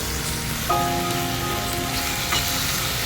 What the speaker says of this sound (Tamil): இதே எண்ணெயில் நம்ம நறுக்கி வச்சுக்கிற 2 பெரிய தக்காளியை சேர்த்து